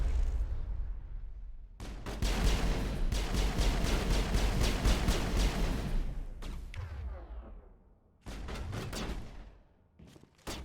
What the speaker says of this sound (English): Because those guys will charge us. They've got shotguns.